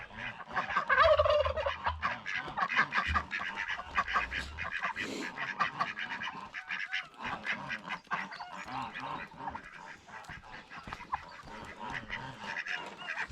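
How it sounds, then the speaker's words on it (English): A noisy chorus of gobbling turkeys and quacking ducks carries on throughout, overlapping calls close at hand with no one speaking. "crack now is to get the turkeys out, leaving the ducks in"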